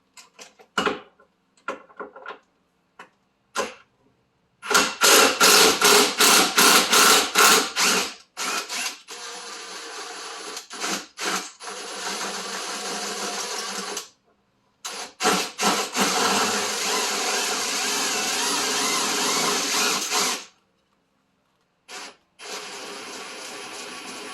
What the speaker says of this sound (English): next we're going to disconnect this lateral rod with the impact.